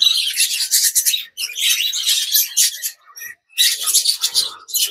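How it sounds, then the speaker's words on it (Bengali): A dense flock of budgerigars chirps and chatters in an aviary, bright scratchy calls coming in continuous bursts with a few short pauses, close and fairly loud. "দেখো বদ্রিতে ভর্তি, মোটামুটি বদ্রি পাখিতে ভর্তি।"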